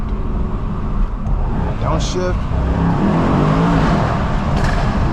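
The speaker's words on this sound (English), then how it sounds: "So downshift." A 600 hp Mercedes-AMG E63S downshifts at night, its engine note rising into a steady loud rumble heard from inside the car, with talk over it.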